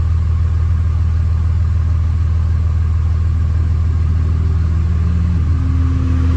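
A Dodge Ram with a Cummins 5.9 diesel idles on a cold start, giving a loud, steady low rumble throughout. Partway through, a faint rising whine joins in and then holds at a steady pitch.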